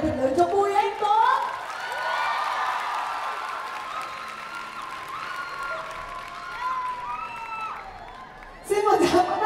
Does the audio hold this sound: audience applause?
yes